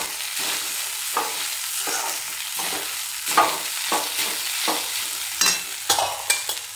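Poha flakes stirred and sautéed with turmeric in a pan, spatula scrapes recurring every half second or so over a steady soft frying hiss, close and alone with no voices.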